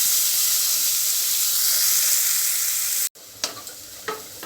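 Onions sauté in a pan for coconut milk rice, giving a loud, steady, close hiss that cuts off abruptly and is followed by a few clinking stirring sounds over a softer sizzle.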